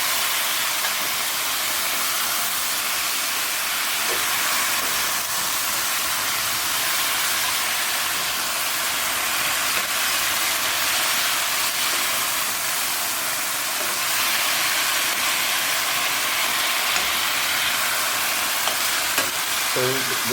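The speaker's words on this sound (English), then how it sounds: "So go just sear this a bit till most of the pieces get a bit of frying" Steady, loud sizzling and crackling of chicken pieces searing in hot oil in a pot, continuous throughout with a few faint clinks of stirring near the end.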